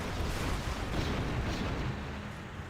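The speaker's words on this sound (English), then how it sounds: "The nuclear explosion." A huge rumbling nuclear blast in the real-time strategy game Generals Zero Hour, a loud, broad roar sustained for a couple of seconds before slowly easing off.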